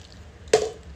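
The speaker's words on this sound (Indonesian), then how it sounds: "saatnya kita menyiram terigu dengan air yang mendidih tersebut sebanyak 1800 ya" Boiling water splashed onto wheat flour for pempek dough, a single short wet splash that lands and quickly fades in an otherwise quiet moment.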